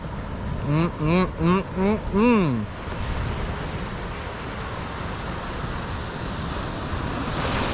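Ocean surf on the far south coast of NSW washes in as a steady, broad hiss that carries on without a break, with a voice making a few short sounds over it at the start.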